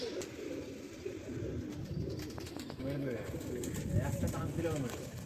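A pigeon coos in low, soft, repeated throaty calls, fairly close, mixed with background voices and general outdoor noise.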